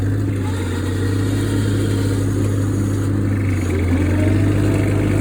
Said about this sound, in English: the tractor does a really good job